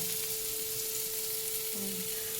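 Food fries in a pan on a home stove, giving an even, continuous sizzle and hiss close to the mic, alongside a faint steady hum.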